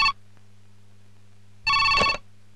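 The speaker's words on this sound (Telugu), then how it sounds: "ఏంటి మళ్ళీ రాము, మళ్ళీ ఫోన్ చేసావు?" A telephone rings in a Telugu comedy drama film: one brief ring right at the start, then a longer, louder ring about a second and a half later, over a steady low background hum.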